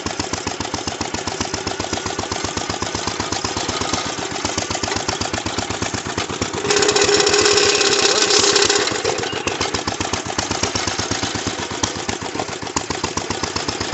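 A 1937 International engine powering a lawnmower tractor runs with a loud, steady rapid chugging beat throughout, briefly swelling louder and rougher midway before settling back to its even rhythm.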